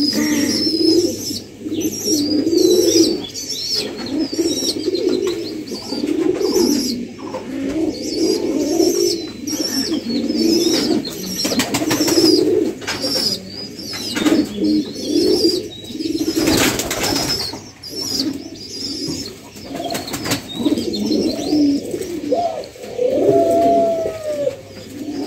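Many pigeons coo steadily inside a pigeon house, overlapping throaty rolls close by, with occasional wing flaps and faint chirps throughout.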